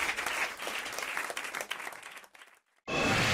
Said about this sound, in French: Sous vos applaudissements, comme aurait dit Jacques Martin.